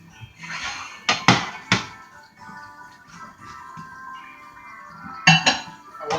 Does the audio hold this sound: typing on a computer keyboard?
no